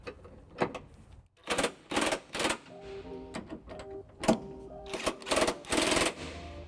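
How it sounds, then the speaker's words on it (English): Electric impact wrench with a 5-inch extension and 3/4 socket snugging trailer hitch bolts on a 2003 Pontiac Aztek, heard as several short rattling bursts in close succession, loud and near, with clicks and clanks between them. "Now with the electric impact, I'll be using a 5-inch extension and a 3/4 socket to snug up the remaining bolts."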